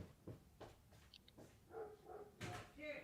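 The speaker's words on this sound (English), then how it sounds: "This dog is like nonstop barking." A dog barks again and again, faint and somewhat distant, in short separated bursts with a little voice-like sound in between.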